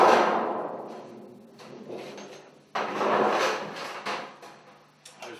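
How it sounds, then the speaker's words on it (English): A hammer strikes metal ductwork pieces, a few resonant metallic bangs and taps, each ringing out and decaying, with short gaps between strikes. "Once they're in place, we tap them with a hammer,"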